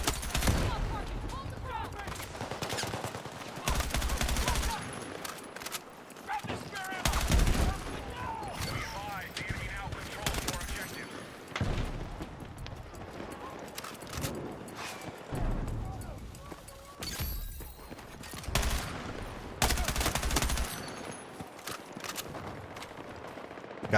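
Gunfire in Battlefield 6 multiplayer: repeated bursts and fusillades of shots, some close and loud, others distant, scattered across the whole stretch under voices talking.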